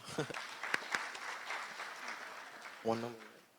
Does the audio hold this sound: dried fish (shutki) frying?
no